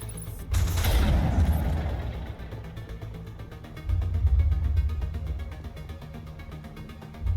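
Gunfire and booming blasts from a firefight in the video game Mass Effect, with a sharp crack near the start, then two heavy rumbling bursts separated by a lull, with no one talking.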